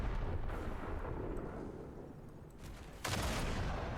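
A cannon firing high explosive shells in a video game, heavy rumbling booms over a continuous low roar, with a sharper, louder blast breaking in near the end.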